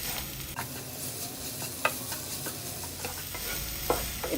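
A grated cheese mixture is stirred in a pan, with a continuous soft sizzle broken by several distinct scrapes and taps of the spoon against the pan at irregular intervals.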